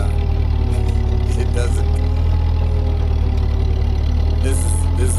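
A Ford 8N tractor engine runs steadily with a low, droning idle-like hum while its blade clears snow outdoors; the rumble is constant and loud, with a person speaking briefly over it.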